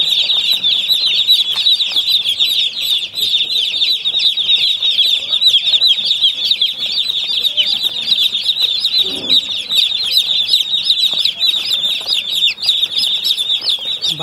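Young chickens on a rooftop poultry farm keep up a dense, continuous chorus of high chirping and peeping, with flapping and rustling mixed in, steady and close throughout.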